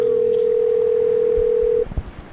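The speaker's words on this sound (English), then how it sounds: "We're listening to the phone ring right now." On a phone call, a single steady ringback tone plays for about two seconds, loud and continuous, then cuts off to low line noise.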